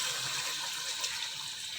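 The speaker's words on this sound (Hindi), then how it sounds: "अब हम इसमें पानी डाल देते हैं।" Water pours into a cooking pot for potato rice in an Indian home kitchen, a continuous bright splashing rush at close range with no talk over it.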